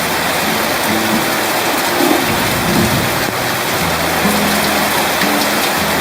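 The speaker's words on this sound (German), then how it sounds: "Der Regen kommt rein" Heavy storm rain pours down steadily in a Brazilian forest, loud and dense with a constant roar, wind gusting and water coming in through an inadequate roof tarp, with faint low voices underneath.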